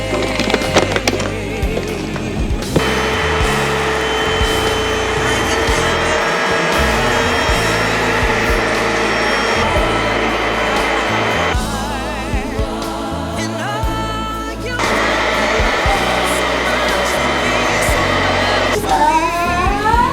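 A Little Green spot-cleaning machine works over fabric chairs, its loud, continuous motor and suction whine droning steadily, with brief shifts in tone as it moves across the upholstery.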